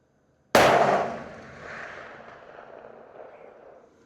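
A CVA Endura Pro muzzleloader rifle fires a single loud, sharp shot at a 400-yard target, the blast followed by a long rolling echo that fades over several seconds.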